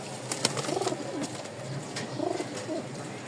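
Pigeons, three males and four females, coo softly in repeated low, throaty phrases, with faint rustling in the background and no talking.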